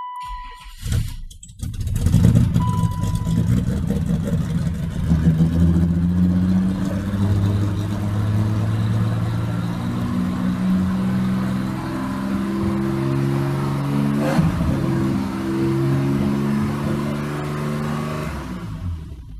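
A BMW E32 730i that has sat for a couple of days, freshly fitted with a restored valve cover, cranks and cold-starts, then runs loudly up close with rising revs and a rough, unsettled idle.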